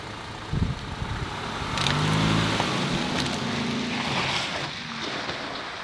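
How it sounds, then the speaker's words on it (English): An SUV rolls slowly over a Samsung Galaxy S5 phone, a low rumbling engine and tire sound that swells and lingers for a few seconds outdoors. "Here's the S5 prepared to be run over with an SUV."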